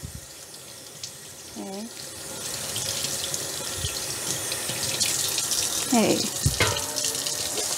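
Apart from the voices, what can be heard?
rinsing pork belly under running tap water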